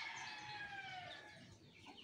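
Rhode Island chickens kept alongside ducks call out, a faint, drawn-out rooster-like crow with a falling tone, heard at a distance over quiet farmyard background.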